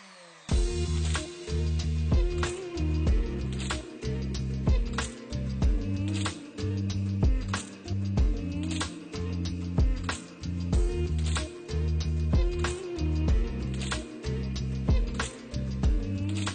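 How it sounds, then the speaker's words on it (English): A router whines steadily in repeated passes while planing a slab, riding on a jig, its pitch dipping and surging in a regular rhythm as it cuts across the surface. "So the router just rides on these 2 pieces of wood"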